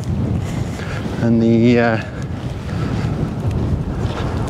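Wind blowing at a mountain paragliding takeoff in Snowdonia, a continuous rough buffeting rush against the microphone, loud and close, with a brief spoken word partway through.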